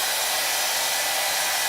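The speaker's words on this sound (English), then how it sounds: "So I thought I'd give it a try using a hairdryer." A hairdryer blows steadily nearby, heating wax into a canvas haversack, a constant airy whoosh with no pauses or other sounds.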